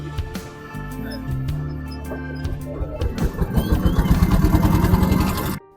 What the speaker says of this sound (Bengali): আমাদের ট্রলারটি এই মুহূর্তে স্টার্ট দিয়েছে